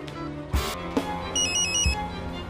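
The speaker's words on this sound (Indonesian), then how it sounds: "Ia pun mencoba menghubungi nomor panggilan terakhir yang ada di handphone Inspektur Wong." Mobile phone ringtone, a short electronic ring rising above quiet background thumps and clicks, faint and brief.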